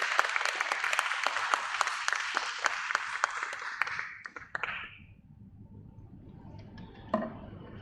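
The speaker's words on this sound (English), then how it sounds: "Let's have a huge round of applause for him, please." An audience applauds at the MapmyIndia listing ceremony at BSE, a dense burst of clapping that fades after about five seconds, followed by quiet room tone and a few scattered taps.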